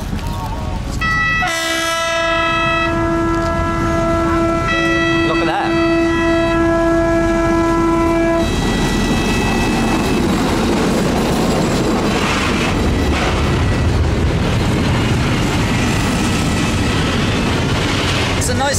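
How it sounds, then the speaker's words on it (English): A train in Cambodia rumbles loudly past up close beside a roadside market, its long, steady horn blaring for several seconds before the heavy roar and rattle of the cars take over. "But in Cambodia, a train is coming through."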